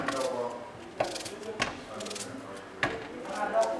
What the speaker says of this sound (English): how do you cut your onions? Do like half and do like this